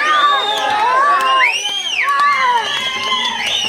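A crowd of spectators erupts in cheering, shouting and piercing whistles, sustained and loud throughout.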